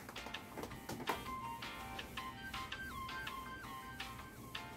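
A phone on an outgoing call gives a repeated electronic ringback, steady tonal beeps in a regular on-off pattern, with clicks and rustle around it and no talk.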